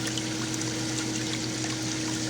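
A pump recirculates water through a heat sink and condenser, giving a steady, continuous rush of flowing water over a constant mechanical hum, even and unbroken at moderate level.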